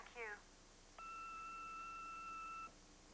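A long, steady electronic tone from an answering machine sounds for about a second and a half after a short voice fragment, clear and alone with no talking over it.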